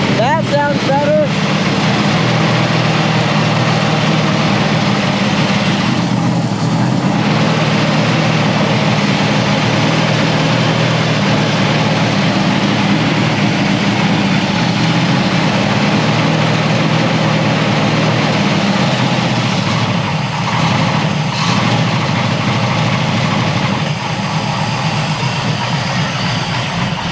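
A 1968 Camaro SS with a big block Chevy V8 idles steadily for the whole stretch, a loud low rumble after swapping the number 3 and 6 plug wires on the distributor, with people talking over it.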